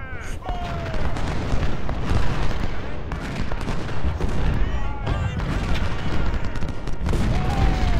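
Dense cannon and musket volleys roar continuously on a Civil War battlefield in Ultimate General: Civil War, with repeated booms and crackling rifle fire layered into a loud, unbroken din.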